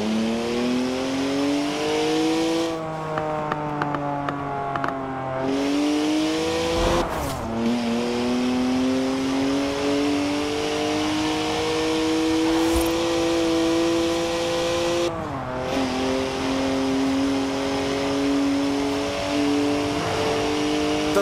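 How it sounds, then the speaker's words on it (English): BMW 1M with a three-litre twin-turbo straight-six, 335 horsepower, in Forza Horizon 4, its engine droning and rising steadily in pitch through the gears, with short lifts and shifts between long pulls, loud and close. "Three-litre straight six, 335 horsepower, two turbos, as much sideways action as you like."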